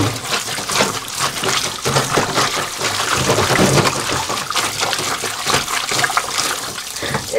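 Hands kneading and squeezing pumpkin leaves in a bowl of water, a continuous wet sloshing and squelching at moderate loudness with irregular small splashes throughout; no one speaks.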